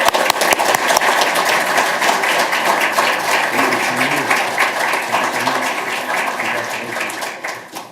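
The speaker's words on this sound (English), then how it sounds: "Let's give her a round of applause." Sustained audience applause for an award recipient at a police department annual awards ceremony, dense steady clapping from a large crowd that slowly fades toward the end.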